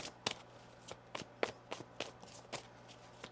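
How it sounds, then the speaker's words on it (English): Tarot cards being shuffled during a love-themed Pisces reading, heard as a run of soft, quiet riffling taps and slaps at irregular intervals, alone without speech. "One more shuffle."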